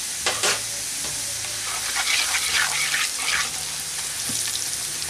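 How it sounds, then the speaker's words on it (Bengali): Onion frying in a pan with Kashmiri red chili powder, a loud continuous sizzle with stirring scrapes throughout, no speech. "পেঁয়াজটাকে হালকা করে ভেজে নিচ্ছি।"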